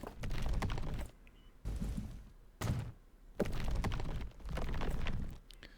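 Heavy bulldozers knock down buildings in the transport-management game Transport Fever 2, giving bursts of dense crunching, thudding demolition noise that start and stop in separate clusters, loud and close, with short quieter gaps between them.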